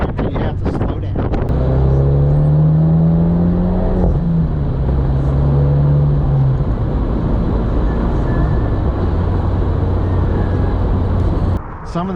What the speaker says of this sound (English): Get it up to second or third gear, spool up the turbo, and all bets are off after that